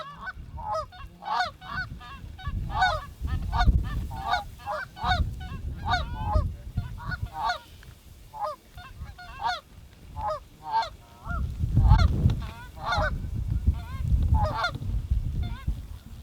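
A large flock of geese honks continuously during a late-season goose hunt, with many overlapping calls near and far and a low wind or rumble underneath, swelling and easing across the clip.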